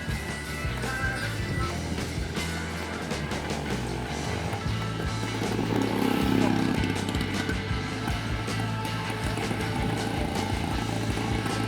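A Honda Zoomer E electric motorcycle with a 48-volt motor on its first run, a steady close hum and road rumble that swells briefly midway, with a voice heard faintly.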